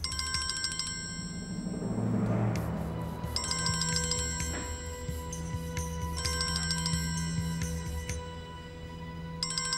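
A telephone rings with a repeating electronic ringtone in bursts, steady and fairly clear, with a low rumble of other sound underneath and no voices.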